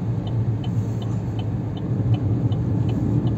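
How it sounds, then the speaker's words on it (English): Road traffic produces a continuous low rumble of passing vehicles on an island street. Faint regular ticking sounds run through the steady roar. "you can just see the absolute amount of traffic that's here"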